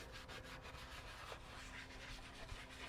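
Steady close rubbing and scrubbing of exterior car trim while Mothers CMX Ceramic Trim Restore & Coat is worked in, a continuous abrasive swish with no talk.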